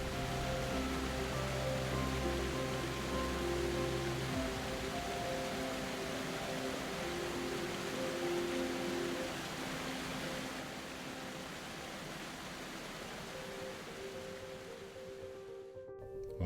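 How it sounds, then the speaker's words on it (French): The Cascade du Rouget waterfall near Samoëns and Sixt in the French Alps roars as a steady, dense broadband rush, constant and unbroken throughout. "j'arrive un peu plus tard à la cascade du Rouget"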